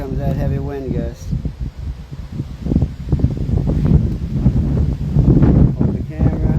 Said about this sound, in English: There comes that heavy wind gust.